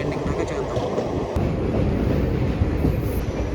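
Simhadri Express rolls along the rails with a steady, loud rumble and clatter heard from inside the coach, broken by a brief sharp knock, with a faint voice in the background.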